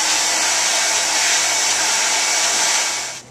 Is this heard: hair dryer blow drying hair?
yes